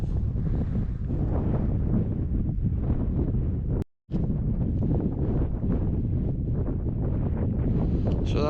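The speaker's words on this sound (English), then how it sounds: "We're once again entering that super windy funnel of air" Strong wind roars across an exposed Scottish hillside near a monument, buffeting the microphone in a loud, continuous rumble with one brief dropout midway.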